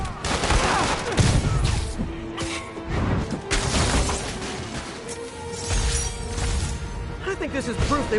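Rapid gunfire rattles from multiple vehicles in the Spider-Man PS4 video game, with bursts, crashes and booms mixed under in-game voices throughout.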